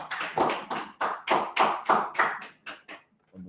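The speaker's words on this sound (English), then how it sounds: "Go ahead and clap it up" A group of people clap their hands at a class session, about ten loud, irregular bursts of applause in quick succession that fade out toward the end.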